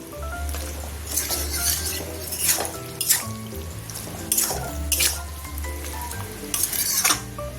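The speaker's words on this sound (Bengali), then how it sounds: "এবার চিকেন কষার পরে এবার চেক করে নুনটা দেবো" Chicken sizzles loudly in a pan as it is sautéed for gravy, with repeated metallic spatula scrapes and clinks against the pan at an irregular rhythm, close up.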